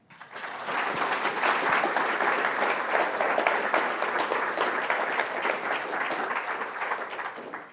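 Lecture-hall audience applauding to welcome speaker Manolis Kellis at a science talk, dense sustained clapping rising quickly and holding steady for several seconds before tapering.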